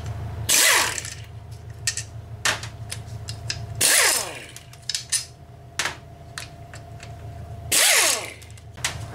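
Bolts come off a small cover on a lawn mower engine as a ratcheting power tool spins in three loud bursts, with metallic clicks and clinks of parts between them, close up and with no talking.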